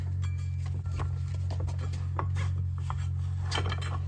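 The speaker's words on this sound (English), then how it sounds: "Kind of struggled with the strap wrench there for a second" A strap wrench grips and turns a clutch piece on a Kawasaki Ridge, giving close scraping, rubbing and metallic clinks over a low steady hum.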